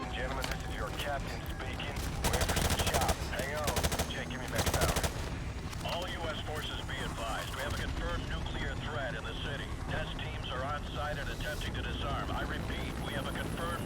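Turret machine gun fire in Call of Duty 4: Modern Warfare pours out in long, dense automatic bursts, with heavy louder volleys mid-way and aircraft engine drone underneath throughout.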